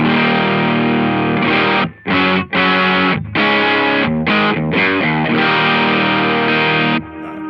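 An electric guitar runs through a Death By Audio Reverberation Machine pedal with its drive engaged. Loud, heavily distorted strummed chords are broken by short choppy gaps and washed with reverb, and the last chord rings out.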